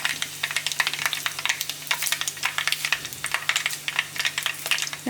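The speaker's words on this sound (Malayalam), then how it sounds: "വറ്റൽമുളക് ചേർത്ത് കൊടുക്കാം" Dried red chillies and mustard seeds sizzling and crackling in hot oil for a Kerala prawn curry, a close, steady spatter of quick pops and hiss over a faint background hum, with no speech.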